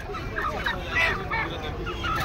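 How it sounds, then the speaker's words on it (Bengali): Cock chickens at a crowded poultry market, squawking and clucking in short, close bursts over a dense backdrop of market noise. "আর এইগুলি কক মুরগি"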